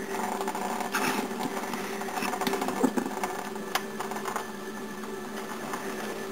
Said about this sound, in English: we're just going to crank it and get the water out of that cylinder